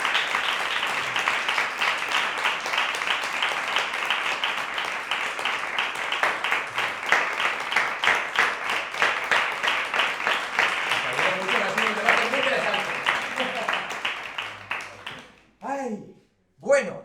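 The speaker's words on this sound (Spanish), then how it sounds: "os pido un fuerte aplauso para vosotros" Gallery audience at a talk-show style art event applauds the participants, a long steady wash of clapping that fades out near the end, followed by a voice speaking briefly.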